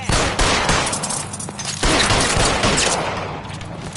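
Rapid gunfire from a shootout in L.A. Noire keeps up loud, overlapping cracks throughout, a dense fusillade with a sharp renewed burst partway through.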